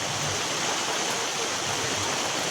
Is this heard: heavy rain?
yes